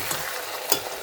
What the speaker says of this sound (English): it's all sizzling away really nicely.